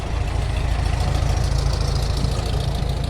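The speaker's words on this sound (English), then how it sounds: "Next we have a Volkswagen at number 122, it's a 1966 make, owned by Mr. Saurabh Watts" A 1966 Volkswagen engine idles steadily at a vintage and classic car rally, a loud, close, continuous low rumble with an even mechanical patter and no pauses.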